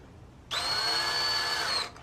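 A power drill on its slowest speed bores into an aluminum Sur Ron Light Bee handlebar, one loud, steady high-pitched whine lasting about a second and a half before stopping, close up with no talking.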